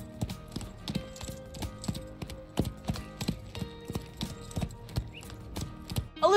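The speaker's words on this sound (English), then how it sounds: "I want to go for an energetic ride now, given that Sarah has no riding skill." Horse hooves clip-clopping in The Sims 4 Horse Ranch during an energetic first-person ride, a steady bouncing rhythm of distinct hoof strikes at moderate volume over faint background music, with no one speaking.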